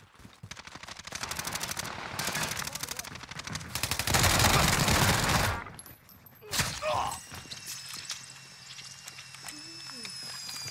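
Rapid bursts of Owen submachine gun fire in Warzone, loud sustained automatic rattles that stop abruptly, followed by scattered game effects and quieter sounds.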